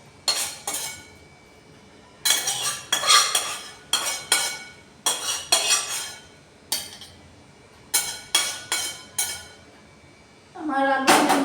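Aloo bhindi sorshe jhal curry poured and scraped from a pan into a serving dish, with a run of sharp metallic clinks and scrapes in bursts, close and fairly loud, ending in a longer rising scrape.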